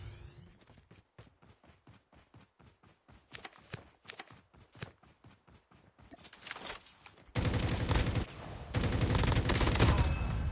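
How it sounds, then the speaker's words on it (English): COD Mobile gunfire: a long run of evenly spaced, sharp shots at moderate distance gives way to louder, dense, continuous firing near the end. "There's a guy shooting over."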